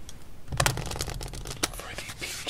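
A deck of playing cards is riffle-shuffled up close, giving rapid crisp flutters and snaps in short bursts followed by soft taps as the cards are squared. No voice is heard.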